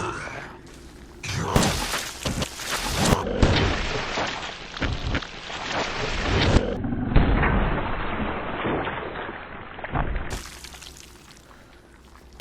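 Resident Evil video game audio of a magnum firing an explosive critical headshot on a Molded enemy: loud shattering blasts and crunching bursts in dense, layered waves with a heavy low thud, no talking.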